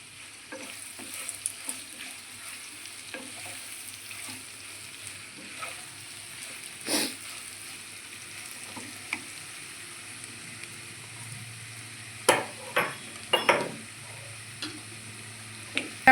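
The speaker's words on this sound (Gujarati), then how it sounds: "મસાલો ઉમેરશું, હવે આપણે બધું મિક્સ કરી લઈશું" Spiced potato chip curry being stirred in a pan, a soft low sizzle under intermittent spatula scrapes and taps, with a few sharper clatters near the end, close and quiet with no voices.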